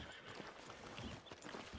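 Horse hooves in Red Dead Redemption 2, faint irregular clip-clop steps on the ground with a soft snort or whinny, quiet and distant.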